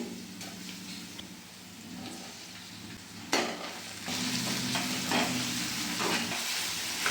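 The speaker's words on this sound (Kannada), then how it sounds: "ಈ ಥರ ಫ್ರೈ ಮಾಡಿ ಟೊಮೊಟೊನೆಲ್ಲ" Onions and tomatoes fry in a pan for ridge gourd palya, a steady close sizzle with scraping stirs and a sharp clatter partway through, growing louder afterward.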